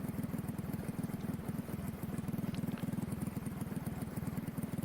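A motorcycle engine runs steadily at a red flag restart, with an even, rapid low thumping close by and faint background noise, and no talking.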